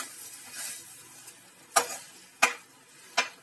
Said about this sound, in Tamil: இப்போ நல்லா இப்படி கிண்டி விட்டுக்கிட்டே இருக்கணும்.